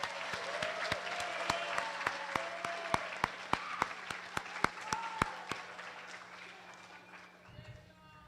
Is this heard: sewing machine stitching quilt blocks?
no